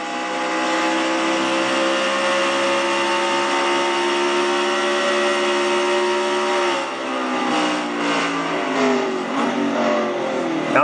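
A race car engine in a Castrol GTX Cup Series race on the Traxxas 400k circuit, held at steady high revs in 3rd gear through the turns, loud and continuous, then easing and changing pitch near the end.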